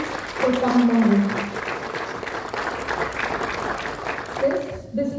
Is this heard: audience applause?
yes